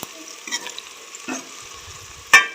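Okra (bhindi) frying in a pan with salt is stirred, giving scattered scraping strokes and a sharp clink near the end over a faint steady sizzle, with no voices.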